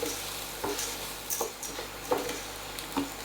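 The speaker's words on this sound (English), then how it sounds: "we're going to stir that around so that it gets covered in the buttery oniony mix." Risotto rice is stirred through a buttery onion mix in a pan, giving quiet, close, rhythmic scraping strokes at roughly even intervals over a soft sizzle, with no talking.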